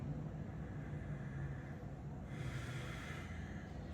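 Slow, steady breathing during a deep lower-body stretch: soft, airy inhales and exhales, close and quiet, with a faint breathy hiss swelling midway and no talk.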